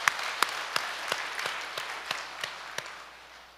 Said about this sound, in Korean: 진짜 박수를 한번 쳐야 할 것 같습니다.